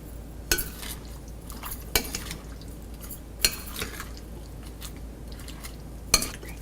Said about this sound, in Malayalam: ഇതിലോട്ട് ഒരു മുട്ട കൂടി ആഡ് ചെയ്ത് ഒന്നും കൂടി മിക്സ് ചെയ്യുക